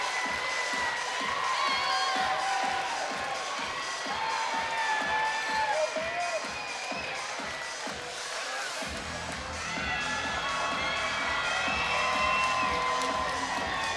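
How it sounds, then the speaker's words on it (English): Spectators at a sporting match cheering and whooping steadily over a rhythmic thumping, with commentators talking over the noise throughout. "Crowd loving it."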